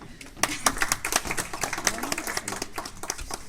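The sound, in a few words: audience applause at a hypnosis show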